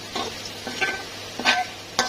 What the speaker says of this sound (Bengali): আলুগুলো লাল লাল করে ভাজা হয়ে গেছে, এখন আমি এগুলো তুলে নিচ্ছি